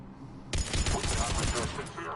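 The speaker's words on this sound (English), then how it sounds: "The cannon fire is clearing the way." Cannon fire in the video game Mass Effect Legendary Edition starts abruptly as a dense, rapid burst of blasts and crackling impacts. It stays loud for over a second before the din eases.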